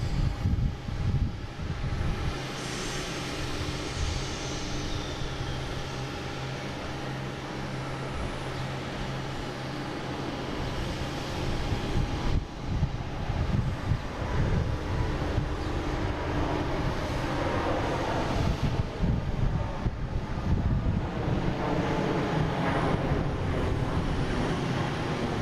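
Airliner taking off from Boston Logan International Airport, bound for Amsterdam, its jet engines a long loud roar that builds and swells, with wind buffeting the microphone throughout.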